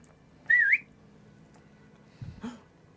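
A person gives a short rising two-note whistle, clear and fairly close, followed a moment later by faint low movement and a brief breathy noise in a quiet room.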